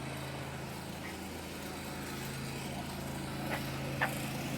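A lawnmower left running to burn off the fuel in its gas tank, a steady droning engine hum at moderate distance with a constant low tone and a couple of faint clicks near the end; nobody speaks.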